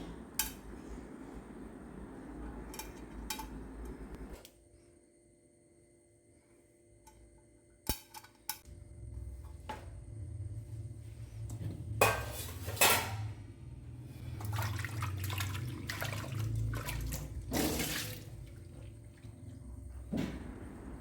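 A burned pressure cooker is scrubbed and washed with liquid soap and baking powder, giving scattered metallic clinks, scraping and splashing water that grow busier and louder toward the end, close by in a quiet kitchen.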